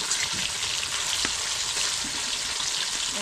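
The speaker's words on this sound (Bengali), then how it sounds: "একটু মাছটা ভাজা হোক।" Katla fish pieces frying in hot oil with cumin seeds, a dense continuous hiss and crackle of sizzling oil, close and steady, with a faint clink midway and no voices.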